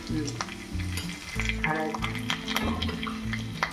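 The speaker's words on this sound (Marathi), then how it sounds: "बडीशोप आणि धने घेतले आपण तळायला" Fennel and coriander seeds fry in hot oil with a dense, crackling sizzle and stirring clatter up close, under a low tonal hum of background music, with no talk.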